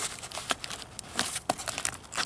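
Cardboard toy packaging for a Jurassic World Dominion Thrash N Devour Tyrannosaurus Rex figure being pulled and torn open by hand, a run of sharp ripping and crinkling bursts at close range, with no talking.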